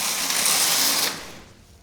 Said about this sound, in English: So this is always the knitting machine.